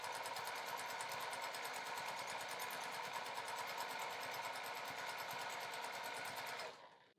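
A sewing machine quilting a straight line through fabric, a fast even close stitching whir held steadily for several seconds before it abruptly stops.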